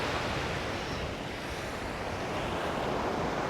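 Sea waves at a beach in Barangay Bongbong, Pantukan, Davao de Oro, a loud continuous roar of surf mixed with heavy wind noise, steady throughout and without talk.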